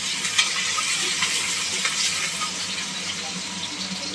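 Onions and garlic sautéing in a pan for veg chowmein, a steady close sizzle with light scraping and clinking of a spoon against the pan.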